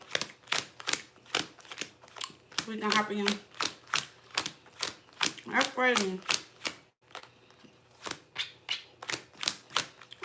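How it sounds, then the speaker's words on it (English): Tarot cards are shuffled by hand, making a rapid, steady series of crisp snapping clicks up close. Two bursts of brief talking break in partway through. "Let me shuffle out these cards"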